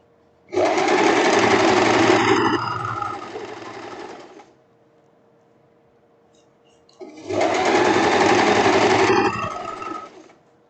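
An industrial overlock sewing machine runs two close, loud bursts over silk, each about three to four seconds long, separated by a short quiet pause.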